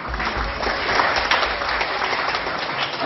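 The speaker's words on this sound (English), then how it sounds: "All right, let's give our team a round of applause" An audience claps for a team at a storytelling event, a dense burst of applause that holds steady for a few seconds with no voices over it.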